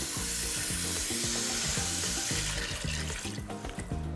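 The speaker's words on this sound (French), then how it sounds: "Je vais ajouter un peu d'eau." Water poured into a pot of broccoli and kohlrabi sweating in fat for soup, a loud, close, continuous sizzle and hiss with bubbling that starts at once and fills the whole stretch, no voices.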